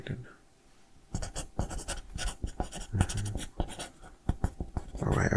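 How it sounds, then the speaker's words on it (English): Pen writing on paper during a psych ward evaluation, scratchy irregular strokes close up, preceded by a quiet pause, with a voice talking softly at times. "let me write that down"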